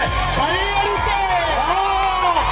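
Spectators at a tug-of-war match roar and cheer in a continuous crowd din, with a commentator's voice carrying loudly over the noise throughout.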